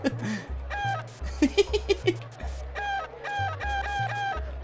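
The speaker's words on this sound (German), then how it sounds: "So, der hat sich wohl in Hinkel verwandelt." Chicken clucking in the video game Secret of Evermore, a run of quick, sharp clucks in the middle over looping game music and electronic tones.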